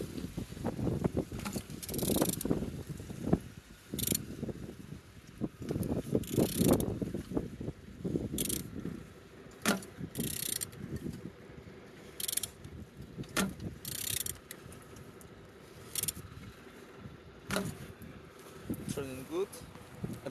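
An N47D20A diesel engine is turned over slowly by hand with a ratchet, giving repeated sharp mechanical clicks and clunks at an uneven pace. Low, indistinct speech runs underneath at times.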